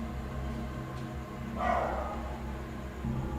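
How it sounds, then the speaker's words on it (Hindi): Several dogs bark faintly in the distance outdoors, with one louder burst of barking midway over a steady low background hum. "मुसलसल कुत्तों का भौंकना लगातार।"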